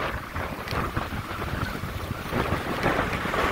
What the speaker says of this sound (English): The wind is ripping here.